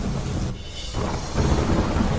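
Heavy monsoon downpour in Ahmedabad, steady dense rain hiss with low rumbling thunder rolling underneath, swelling louder in the second half.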